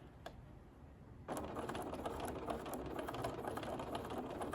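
Sewing machine stitching a circular fabric seam: a faint rustle of fabric handling, then the machine starts abruptly and runs in a steady fast mechanical whir with rhythmic needle ticking, close and alone.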